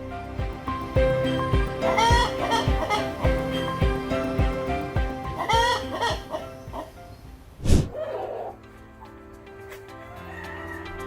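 Ayam Cemani chickens cluck and murmur continuously in a noisy setting, with one sharp loud squawk standing out near the end before the clucking settles.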